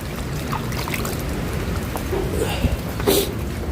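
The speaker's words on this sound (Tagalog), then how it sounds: "Tubig ulan." Steady rain falls with a continuous hiss and patter, holding an even level throughout with a few brief louder splashes and knocks.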